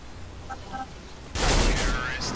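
Gunfire in Counter-Strike: Global Offensive, a sudden loud burst of shots after quieter in-game ambience, with players' voices around it.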